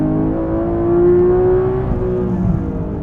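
A 500-horsepower stick-shift Porsche 911R, traction control switched off, accelerates with a loud, close engine note that climbs steadily in pitch through the gear, heard alone without talk.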